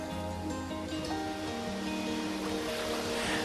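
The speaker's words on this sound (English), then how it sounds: "Spend a vacation on the sea coast, enjoying the sound of the waves and the fresh breeze." Sea waves wash steadily onto a coast, a continuous close broadband surf roar with a faint tonal layer underneath and no voices.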